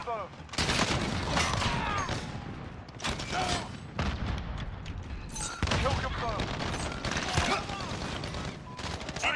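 Rapid gunfire and bursts of shots fill a Call of Duty: Modern Warfare match, loud and near throughout, with handgun fire and booming impacts, under excited player talk.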